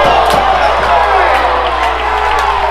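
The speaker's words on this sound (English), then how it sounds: "Crowd did not like that call on Smith." A high school boys varsity basketball crowd in a gym, Littlestown versus Delone Catholic, reacting loudly and steadily to a referee's foul call, with a dense, sustained roar of voices throughout.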